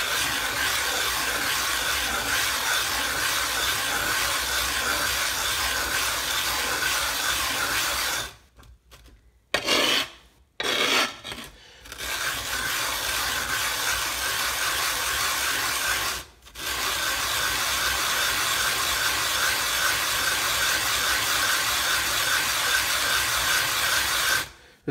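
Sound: washita sharpening stone being flattened with granite powder

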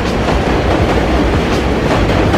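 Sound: passing train

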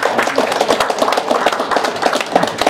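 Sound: audience clapping

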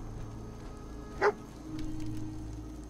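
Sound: dog barking in video game

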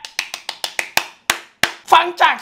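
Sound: hand clapping

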